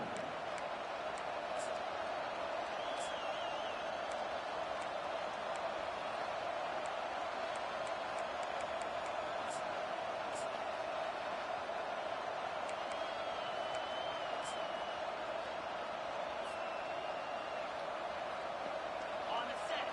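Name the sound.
stadium crowd cheering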